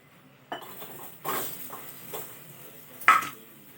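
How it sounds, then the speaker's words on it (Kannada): Onions being stirred and fried in a pan for a North Karnataka-style meal, heard as several scattered scrapes and clinks of a utensil against the pan, moderately close, with a sharper knock near the end. "ಇವಾಗ ಇದ್ಬಿಟ್ಟದೆ ಈಗ ಇವನ್ನ ಉಳ್ಳಾಗಡ್ಡಿ ಹುರ್ಕೋಬೇಕ್ರಿ."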